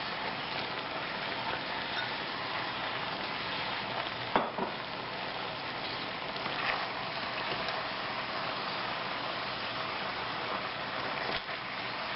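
Bok choy and green onion stir-fried in a pan, a continuous close sizzle with steady stirring scrapes and an occasional sharper clink of the utensil.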